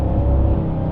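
Audi RS3 with an AWE full exhaust, a close, loud steady engine rumble with turbo whir throughout, no voices.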